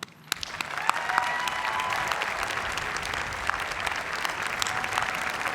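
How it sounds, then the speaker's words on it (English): Commencement crowd for a university class of 2020 breaks into sustained, dense applause that starts abruptly and holds steady and loud throughout, with no talking. "let's all join in a much-earned round of applause for you"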